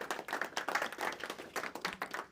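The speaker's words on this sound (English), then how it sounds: "A round of applause." Audience applause for five panelists at a high-level roundtable on globalising compassion: a steady burst of many hands clapping, moderately loud and continuous, with no talking over it.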